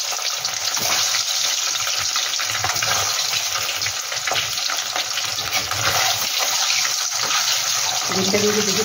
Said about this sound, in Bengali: এবার আমি ডিমটা ভেজে নেব।